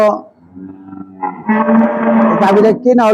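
A dairy cow moos loudly and up close, one long drawn-out low call that swells and holds for several seconds, heard alone without talk.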